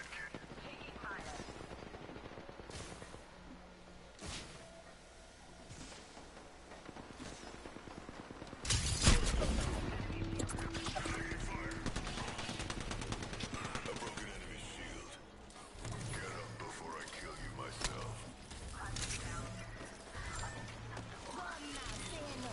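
Firefights in the battle royale shooter Apex Legends, with scattered gunshots and bursts of automatic fire at varying distances, a sharp loud impact near the middle, under game music and effects while a player talks now and then.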